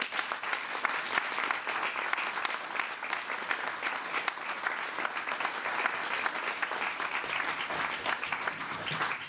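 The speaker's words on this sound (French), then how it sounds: "Je vous demande aussi là un tonnerre d'applaudissements pour Madame" A theatre audience at a Castellane stage performance breaks into a thunderous, continuous round of applause for an actress, dense clapping sustained at full strength throughout with no voices over it.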